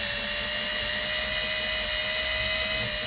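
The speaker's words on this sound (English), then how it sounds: "you got to go a little slower with these because the drill bit will walk on this plastic" Power drill bit grinding rivets out of a plastic toy truck: a steady high-pitched whining drill run, close and continuous, with no talking over it.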